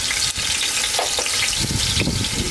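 Garlic sizzles loudly in hot oil in a pan, a dense steady frying hiss with occasional stirring, close and continuous with no talking, while making a braised pig's trotters dish.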